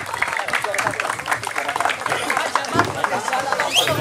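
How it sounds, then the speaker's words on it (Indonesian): A crowd at a Piala Soeratin U-15 football final in Kediri claps and cheers for Spartan FC, steady scattered applause and shouting mixed with a voice over a loudspeaker. "Tepuk tangan untuk Spartan."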